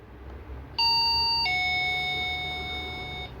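A two-note electronic doorbell chime sounds once, ringing out clearly and fading slowly against a quiet room hum.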